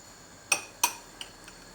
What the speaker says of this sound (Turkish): Şimdi yarmayı koyduktan sonra da yine karıştırıyoruz.